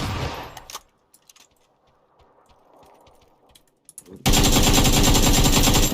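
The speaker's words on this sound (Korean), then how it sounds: "누가 총소리를 내요?" Rapid bursts of automatic gunfire in the video game PUBG: Battlegrounds, with scattered clicks and mechanical sounds before a loud, sustained stretch of continuous firing.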